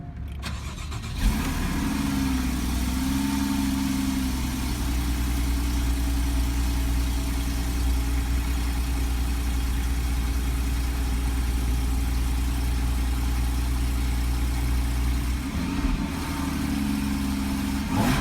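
A Porsche Cayman engine fires up, holds a steady idle for a long stretch, then blips briefly near the end, close and even.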